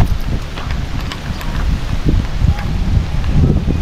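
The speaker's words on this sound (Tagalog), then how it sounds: "Medyo lumakas na yung ulan" Rain and wind outdoors in storm-damaged, landslide-hit Agoncillo, Batangas, a loud, steady rushing wash with gusty buffeting and pattering throughout, no one talking.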